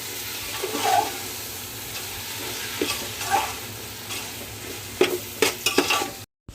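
Large prawns for dum biryani are tossed and stirred in a hot pan, with a continuous sizzle broken by spatula scrapes and a burst of clattering stirs near the end before a brief silence; nobody speaks.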